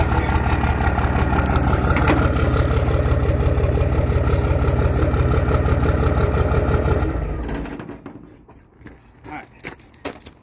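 A Cummins diesel engine with a newly installed turbo and a VGT delete idles loud and close for about seven seconds, then winds down to quiet, scattered clicks and knocks.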